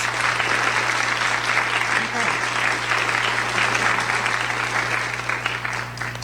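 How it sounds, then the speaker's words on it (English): An audience claps for scholarship winners at a library association president's program, a full, steady round of applause from a seated crowd that tapers slightly toward the end. "let's give a round of applause to the 3 scholarship winners"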